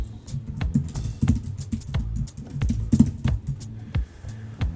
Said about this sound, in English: we'll type in our credentials